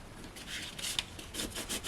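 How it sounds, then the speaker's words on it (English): A burnishing tool rubs firmly along the ends of card layers for a Christmas craft project, a close series of short scratchy strokes in an uneven back-and-forth rhythm, with no talking. "Let me just give those a good burnish down on the ends"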